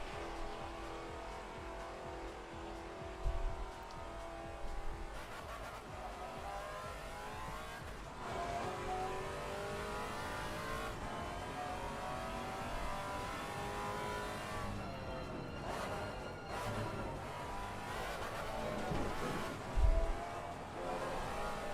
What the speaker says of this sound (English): engine sounds nice.